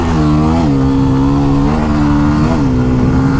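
A motorcycle engine held at full throttle roars loud and close, a steady, strong drone whose pitch climbs briefly three times as the gears change.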